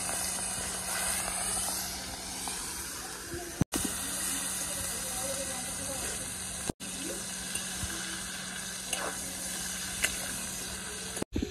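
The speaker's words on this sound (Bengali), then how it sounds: "তেলটা ভালোভাবে গরম হয়ে গেছে, এবার আমি মাছগুলোকে ছেড়ে দেব।" Prawns frying in hot mustard oil give a continuous close hiss and sizzle with faint crackles, broken by a few sharp clicks, steady throughout with no voices.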